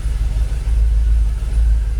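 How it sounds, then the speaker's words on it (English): A Jaguar XKR engine idles at about 800 RPM with a low, steady rumble that sits close and loud, holding an even note without revving. "What are we idling on? About 800 RPM."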